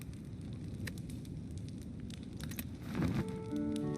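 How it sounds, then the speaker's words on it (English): A campfire crackles in Slay the Spire with soft, irregular pops over a steady bed, brightening briefly near the end as a tonal chime rises. "Campfire."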